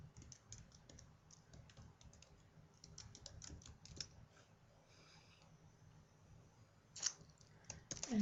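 Keys tapped on a computer keyboard during web page setup, a quiet run of irregular clicks with a few sharper strikes near the end, no voices.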